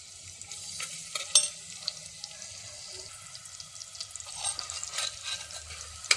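Crushed ginger, garlic and onion sauté in ghee in a pan, a soft continuous sizzle with occasional stirring scrapes and clicks, fairly quiet and close.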